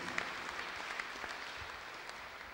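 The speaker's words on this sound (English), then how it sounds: "Let us clap our hands for Jesus Christ." A church congregation claps together in a steady, even wash of many hands, faint and distant, with no talking over it.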